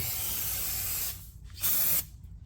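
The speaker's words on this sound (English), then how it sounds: "you can actually use a little bit of a brake cleaner to kind of just clean a little bit the corners" Brake cleaner hisses from an aerosol can onto the corners of a new transmission pan for a Mercedes 9G-Tronic nine-speed automatic, one long spray followed by a short second burst, close and loud.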